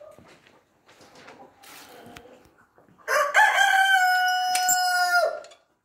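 Rooster about six and a half months old crowing once, a loud sustained cock-a-doodle-doo close by, after faint clucking and soft background sounds from a backyard flock.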